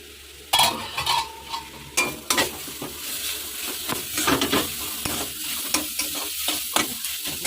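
Greens frying in a pan, stirred right after the lid comes off: a spatula scrapes and clatters against the metal in an irregular rhythm over a continuous close sizzle, with no talking.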